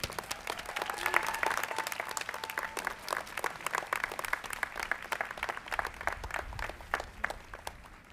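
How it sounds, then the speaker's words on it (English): Audience applause at a college degree ceremony, a broad hall full of clapping that swells early and continues steadily, with scattered individual claps standing out toward the end. "give him a round of applause"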